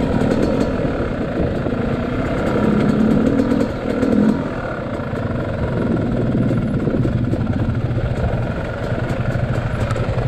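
A motorcycle engine idles steadily and loudly close by on a mountain road in Kibungan, Benguet, a continuous rough rumble with slight surges throughout and no talk.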